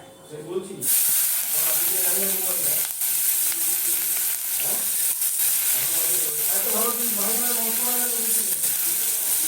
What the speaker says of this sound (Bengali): ডিমগুলোকে সুন্দর করে ভেজে নেব, ভেজে তুলে নেব।